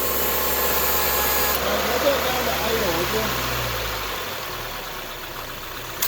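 A Subaru engine idling steadily during an air conditioning recharge, a continuous close rumble with a faint hiss, loud and unchanging throughout, a voice talking over it.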